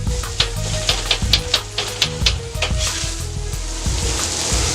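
Sausage sizzles on a flat-top griddle while a metal spatula chops it up with quick, sharp rhythmic scraping clacks against the steel surface, loud and close over a steady frying hiss.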